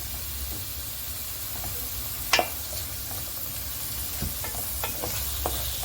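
Chopped onion and mushroom sautéing in a pan for an Egyptian mushroom piccata give a steady, close sizzling hiss, with a few sharp utensil taps and scrapes scattered through it and no talking.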